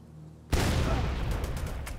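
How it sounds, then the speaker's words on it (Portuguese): A grenade blast in The Division 2 shooter game: a sudden loud burst of broadband noise after a brief quiet lead-in, followed by sustained rumbling gunfire-like crackle that continues to the end. "Deixa eu jogar uma granada."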